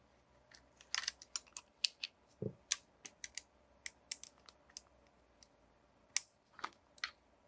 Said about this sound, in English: We're going to take the rear frame screw out and the front frame screw out.